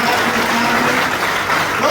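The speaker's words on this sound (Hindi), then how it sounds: "जोरदार तालियों के साथ।" At a Hindu Utsav Samiti meeting in Maksi, Shajapur district, a crowd applauds loudly: a dense, continuous roar of clapping with voices mixed in close by.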